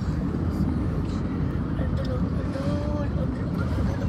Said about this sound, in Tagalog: Akala ko hindi yung helicopter, eh. Helicopter pala yun.